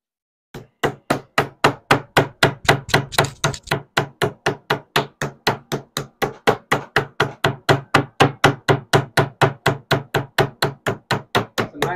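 Skirt steak being pounded flat with a meat mallet before trimming, a steady fast run of dull, heavy thuds about four per second, close and loud, with no speech.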